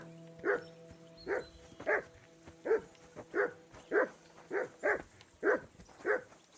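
A dog barks over and over in Kingdom Come: Deliverance II, about ten evenly spaced barks, moderately close and clear above a faint low background drone.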